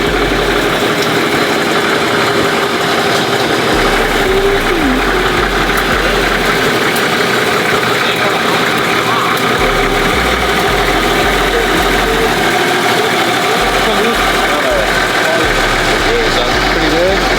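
A GM 6.0 V8 swap engine idles steadily and loudly up close, a continuous low rumble with a pulsing bottom end and a broadband mechanical hum throughout.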